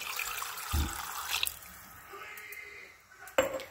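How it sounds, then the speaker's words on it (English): Water poured into a gravy mixture in a home kitchen while cooking a Thanksgiving meal, a faint trickling splash with a soft clink near the start and a sharper knock at the end. "And then I'm going to add water."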